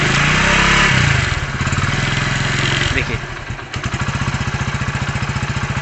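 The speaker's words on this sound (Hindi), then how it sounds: "देखिए मैंने गाड़ी को स्टार्ट किया, और इसकी स्पीड को हम चेक करेंगे" Motorcycle engine just started and running, revving high at first and then settling into a steady, pulsing idle, loud and close, with someone speaking briefly over it.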